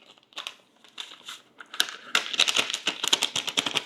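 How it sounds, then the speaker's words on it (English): An envelope of onion soup mix is torn open and crinkled, a quick flurry of close papery rips and crackles that grows busier toward the end. "So I need one envelope of our onion soup mix."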